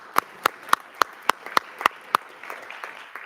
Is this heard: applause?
yes